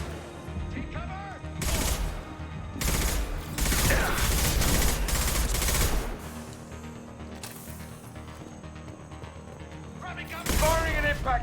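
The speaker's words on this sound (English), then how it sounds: "Firing an impact shot." Impact shot gunfire in the Mass Effect 2 video game: bursts of heavy shots and booming blasts come in loud clusters with sustained roaring tails and brief quieter gaps between volleys.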